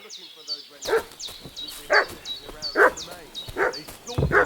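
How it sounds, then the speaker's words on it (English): A dog in the video game Kingdom Come Deliverance 2 barks repeatedly, roughly once a second, with loud, fairly close yelps over a steady background with high chirps. "What's that dog making such a fuss about?"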